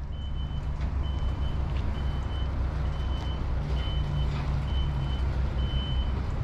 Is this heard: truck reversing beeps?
yes